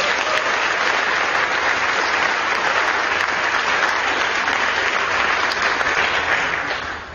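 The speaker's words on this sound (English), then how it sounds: "So let's give them a round of applause." A live audience gives a round of applause at a stage performance event. The clapping is loud, dense and sustained, with no talk, and tapers slightly at the very end.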